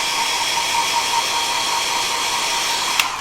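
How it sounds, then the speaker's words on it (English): A hairdryer roars steadily and loudly close by while drying painted Warhammer miniatures, with a constant broadband whoosh and no talking over it. "Hairdryer across the universe, drying stuff"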